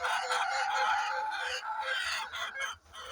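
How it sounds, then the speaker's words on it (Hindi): Several Golden Misri hens sitting on eggs cluck and chatter together close by, a busy overlapping murmur of clucks with brief pauses. "तो देखो माशाल्लाह मुर्गियाँ बैठी हुई है अंडों के ऊपर"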